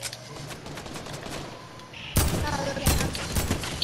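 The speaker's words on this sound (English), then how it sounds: "Hold on, someone's shooting at me." Shooting-game gunfire: a muffled volley of distant shots gives way to louder, closer bursts near the end, with no talk over it.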